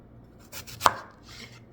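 A knife chops an onion into large dice on a cutting board, with a couple of soft cuts and one sharp, close knock in a short quiet stretch.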